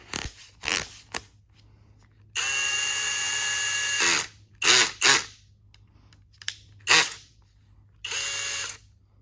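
Brushless 20V DCK cordless electric drill with a metal chuck, run in several bursts: short whirring pulses and two longer steady runs, loud and close, separated by quiet gaps with no talk.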